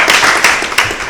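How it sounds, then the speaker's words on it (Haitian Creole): Brief burst of audience applause at a French television talent competition, dense clapping that swells and dips over about a second. "Je vous demande d'applaudir encore une fois."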